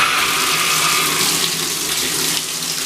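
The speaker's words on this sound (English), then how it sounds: "we got water. It's draining awesome." Water pours steadily from a temporary shower head into a bathtub under renovation and drains away, a continuous close hiss and splash with no talk.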